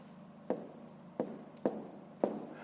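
A pen writes numbers by hand in four short, quiet scratching strokes, evenly spaced over a faint background hum.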